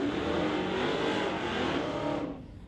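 A Chevy pickup truck rolls into the water box at a drag strip in a loud, dense engine roar with raspy revving that holds steady, then drops away quickly near the end.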